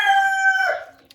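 A rooster crows loudly and close by at a homestead chicken coop on a wintry morning, one sustained cock-a-doodle-doo trailing off, with brief clucking from the hens afterward.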